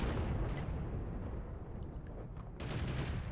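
Tank cannon fire in the World of Tanks video game, heavy booming shots rolling together under a dense rumbling battle din, with sharper bursts near the end.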